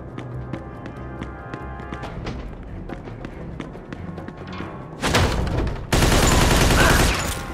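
Gunfire in the Mafia II video game: rapid bursts of shots and thuds build into dense, loud sustained automatic fire that fills the last few seconds.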